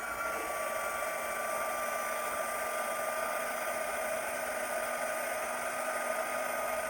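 A heat gun warms resin in a cup, a steady whirring blower hiss that holds constant and fairly quiet throughout, with no talking.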